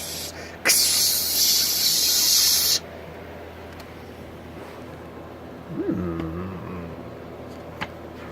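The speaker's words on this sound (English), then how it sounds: "Sizzle." A sharp sizzling hiss bursts in loudly and holds for about two seconds before stopping abruptly, followed by a quiet stretch and a brief voice.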